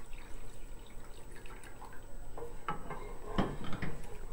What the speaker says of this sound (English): In addition to this, we're going to add 1 cup of water.